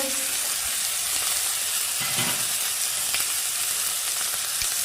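Onion paste with ground cumin, turmeric and chili powder sautéing in a pan for a fish, potato and eggplant curry gives a steady, close sizzle and hiss throughout, with occasional soft stirring scrapes.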